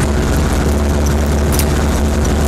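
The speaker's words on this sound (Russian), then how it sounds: "Для увеличения мощности двигателя я оторвал на гравейке глушитель" A GAZ off-road vehicle engine runs with its muffler torn off on a gravel road, giving a loud, steady, raw roar with a heavy low rumble throughout and no speech.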